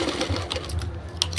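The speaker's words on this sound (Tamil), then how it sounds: "கழுத்து பீஸ் ஸ்பீடாக தைக்கக்கூடாது. இப்படி எடுத்து தைக்கணும்." A sewing machine runs in short, steady bursts of stitching along the neck piece of a blouse, close and fairly quiet, with no talking.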